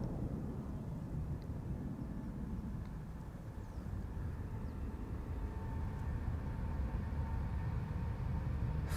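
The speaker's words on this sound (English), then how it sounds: "This is KLM Flight 605 to San Francisco." A KLM airliner takes off from Amsterdam Schiphol's Polderbaan runway 36L, producing a steady, loud jet roar and low rumble that holds evenly and swells slightly toward the end.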